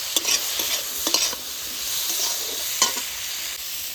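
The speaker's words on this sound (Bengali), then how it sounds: "টমেটোর সাথে আলুটা 2-1 বার নাড়াচাড়া করে" Potatoes with chopped tomato and slit green chillies, salted and turmeric-dusted, sizzle steadily in a pan while a utensil scrapes and stirs in a few distinct strokes, close and fairly loud with no talking.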